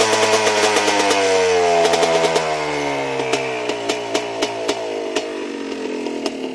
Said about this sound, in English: And let the engine calm back down a little bit.